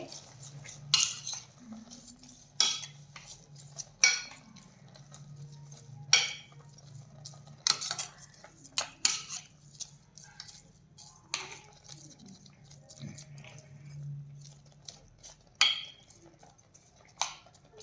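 A metal spoon stirs sugar into carrot halwa in a pan, with repeated sharp clinks and scrapes against the pan at an uneven pace over a low steady sizzle, close up and without talk.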